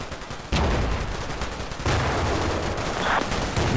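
BTR armored vehicles firing inside a factory in the war game Combat Mission Cold War: two loud, sustained bursts of rapid automatic gunfire, close and dense, with no voices over them.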